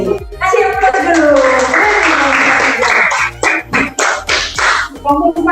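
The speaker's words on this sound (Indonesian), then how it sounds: "Kasih aplaus dulu." A classroom group gives a burst of applause, loud clapping mixed with excited children's voices and chatter, fading into scattered claps toward the end.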